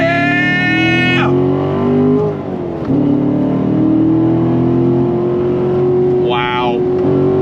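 A Chevrolet Corvette C7 Stingray Z51 Premiere Edition with a 7-speed manual accelerates at full throttle, its engine note climbing steadily, dipping briefly at a gear change, then pulling hard again as a voice exclaims over the loud roar.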